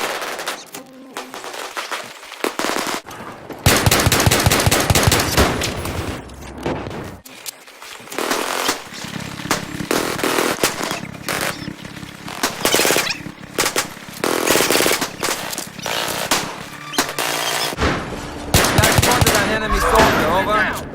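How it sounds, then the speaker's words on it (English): Machine gun fire and other gunfire in the Battlefield 3 video game, heard as dense, loud bursts of rapid shots with brief pauses between volleys, running throughout with battle noise. "Hostile machine gunner spotted."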